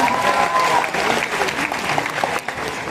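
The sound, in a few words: applause for teachers called on stage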